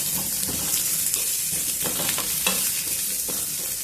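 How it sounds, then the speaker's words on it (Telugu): Onion pieces frying in hot oil for carrot chutney give a loud, continuous sizzle close by, broken by occasional soft stirring scrapes. "ఇప్పుడు ఉల్లిపాయ ముక్కలు కూడా వేసేద్దాము"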